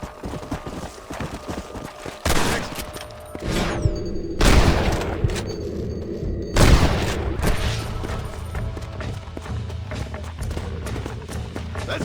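Gunfire in a Red Dead Redemption shootout, with sharp loud shots cracking over galloping hooves and a busy, continuous din.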